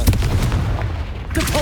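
A short, loud booming blast from the Confringo fire spell in Hogwarts Legacy, a single heavy impact with a rumbling tail and a brief voice near the end.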